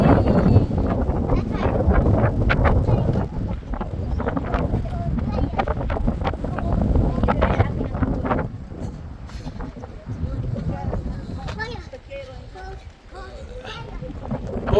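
Strong wind gusting across an open desert landscape in Arches National Park, buffeting the microphone with a steady roar while several people talk over it.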